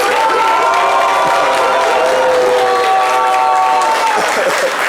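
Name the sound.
audience applause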